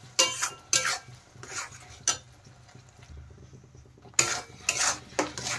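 Spinach paste is sautéed with spices in a pan, a spatula scraping and knocking against the metal in short, separate bursts, with quieter gaps of low sizzling between the strokes.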